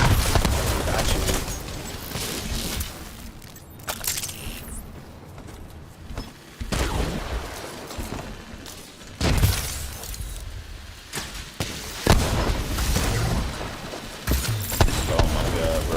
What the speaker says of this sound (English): this mortar is freaking crazy